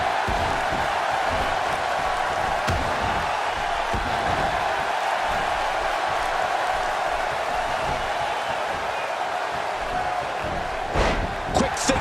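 An arena crowd roaring in the wrestling video game WWE 2K16, a dense, continuous wash of cheering and noise under a commentator's voice, with a few sharper bursts near the end.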